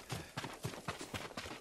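Horse hooves clip-clopping at a steady, even trot while riding in the video game Ghost of Tsushima, about seven soft, evenly spaced beats heard faintly and alone.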